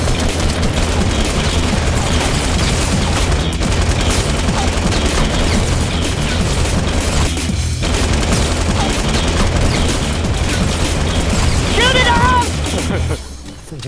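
Gunfire in the battle royale video game Fortnite, a dense continuous barrage of rapid shots and booms filling the whole stretch, loud and close, with a voice briefly rising over it near the end.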